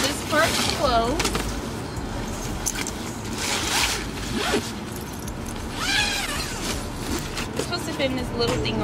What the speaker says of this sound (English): Gonna zip this part closed.